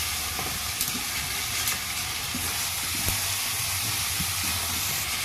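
Meat and potatoes frying in a pan in a village kitchen, a dense hissing sizzle with intermittent scraping and knocking strokes as the food is stirred, close and continuous.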